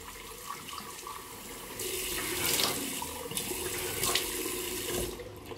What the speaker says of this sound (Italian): Mi sciacquo il viso con un'acqua un po' calda.